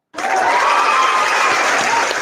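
A soundboard applause effect bursts in abruptly and holds as a loud, dense crowd clapping and cheering for about two seconds.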